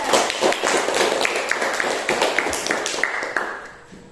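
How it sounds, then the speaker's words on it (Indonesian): A classroom of students applauds a presenting group, a dense burst of hand claps with a few sharp taps that thins and fades toward the end. "Kita tepuk tangan dulu untuk kelompok 3."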